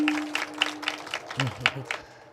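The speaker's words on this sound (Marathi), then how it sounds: "महाराज टाळी वाजली" Audience clapping at a Marathi kirtan, a scattered patter of claps rising and falling for a couple of seconds, with a voice and a low sustained tone briefly underneath.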